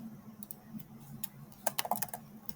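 Typing on a computer keyboard while writing code, a few scattered keystrokes at first, then a quick close burst of clicks near the end, with a low steady hum underneath.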